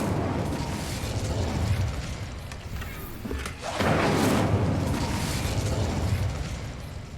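A fiery Incendio spell cast in Hogwarts Legacy roars as a loud, sustained whooshing burst, dips briefly near the middle, then surges again with explosive force.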